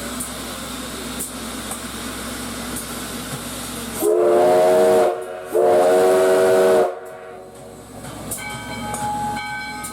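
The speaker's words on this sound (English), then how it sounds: "the first Moore Haven Meteor trip of the day departs Clewiston for its 15-mile trip to Moore Haven." The Moore Haven Meteor steam train departs Clewiston, hissing steadily before two long, loud blasts of its steam whistle, then chuffing and rolling on with a fainter whistle tone.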